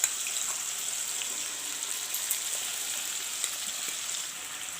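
A paste of dhania, jeera and red chili is fried in a pan, giving a steady, bright sizzle with a soft splash at the start and faint stirring scrapes.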